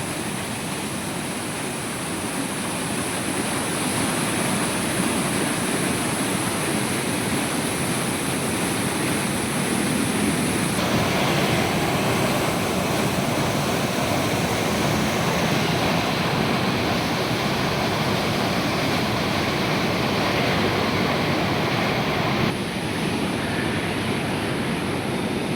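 The flooded Bekasi river, thick and milky, pours through the Bekasi weir with a loud, continuous roar of rushing water that holds steady throughout.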